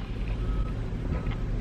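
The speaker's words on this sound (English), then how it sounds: "Who the f is beeping at me?" A vehicle's reversing beeper sounds nearby, a thin steady tone repeating over a low rumbling engine idle, steady and moderately loud with no talk.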